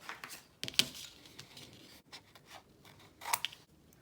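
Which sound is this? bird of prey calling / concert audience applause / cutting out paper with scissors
cutting out paper with scissors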